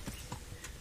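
Horse hooves clip-clop in Kingdom Come Deliverance, a brief run of soft, steady footfalls at a walking pace, faint and close.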